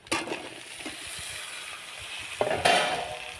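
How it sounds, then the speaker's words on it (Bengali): Cut pumpkin, malabar spinach stems, eggplant and potato tipped into hot oil in a pan for a poui shak chorchori, with a sharp sizzle at the start and a clatter later as they are stirred, close and moderate. "এবারে আমি এই যে সবজিগুলো কেটে রেখেছি, কুমড়ো, পুঁই শাকের ডাঁটা, বেগুন আর আলু, ওইগুলোকে সব দিয়ে দেবো আমি"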